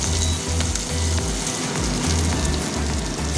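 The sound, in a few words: onion frying in oil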